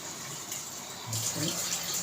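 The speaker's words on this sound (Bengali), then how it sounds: "এবার এর মধ্যে পরিমাণ মতো জল দিয়ে দেবো।" Water poured into a cooking pan of dhoka curry, a steady splashing stream that grows louder and fuller about halfway through, heard up close in a home kitchen.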